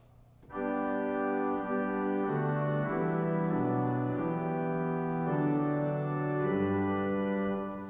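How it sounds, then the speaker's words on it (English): Sustained pipe organ chords with the oboe stop adding a soft reedy buzz, muffled and mellow with the swell box closed, moving slowly through a hymn-like progression with no voices. "maybe if I add the oboe, it just adds a little buzz, it adds a little color"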